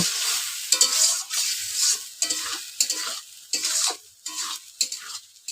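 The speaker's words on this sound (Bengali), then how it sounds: "তো এটাকে হালকা নেড়ে চেড়ে একটু ভাজা ভাজা করে নেব মশলাটাকে" Masala stirred and fried in a pan makes a close sizzle that swells and drops in bursts with each stir, broken by short scraping strokes.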